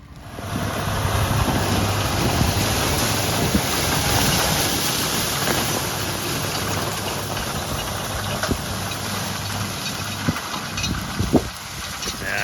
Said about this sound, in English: We've got a single rotor rake on,